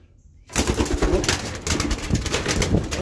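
Pigeons around a loft where young birds are being banded and prepared for their first toss: busy cooing and wing flutters, with sharp flapping bursts and scuffling close to the listener, loud and fairly continuous.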